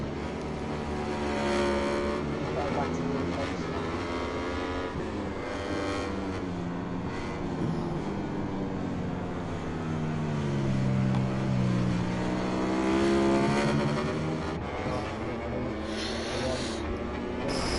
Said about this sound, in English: Celeston's next one up on his Ducati.